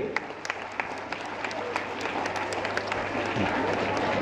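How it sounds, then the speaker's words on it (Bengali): Audience at a spoken-English class result ceremony clapping for the special guest: steady, moderately distant applause from a crowd that carries throughout. "এই পর্যায়ে আমাদের বিশেষ অতিথি, সবাই একটু করতালি।"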